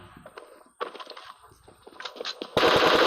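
Bursts of automatic gunfire crackle in PUBG on the Sanhok map as enemies are killed: short rapid volleys, then a loud sustained burst at the end.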